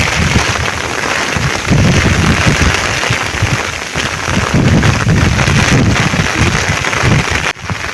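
Strong wind and rain sweep through a Bangladeshi village, a dense, steady roar of gusts and falling rain, loud and close with no voices.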